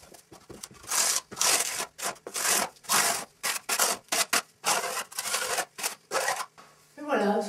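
A spatula spreads and scrapes plaster in a bathroom, making rapid, rhythmic rasping strokes close by, each short swipe separated by tiny pauses, with a brief scrape at the end.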